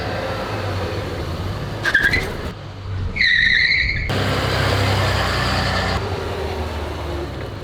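A crashed Mazda RX-8 with a rotary engine is driven around the block, with a loud, steady engine and road roar. Brief squeals and whines rise over it near the start, and the sound stays close and continuous throughout.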